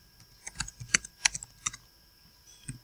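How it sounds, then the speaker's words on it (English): A computer keyboard is typed on in quick, irregular bursts of crisp key clicks, about a dozen close taps with a short pause before a final few strokes. The setting is a Notepad automation tutorial, and no one speaks. "here I'll type the message as "welcome to the world of automation.""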